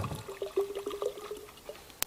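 Oil is poured into a container of water, making a faint, close trickle and gentle liquid gurgle, with a soft tap near the end.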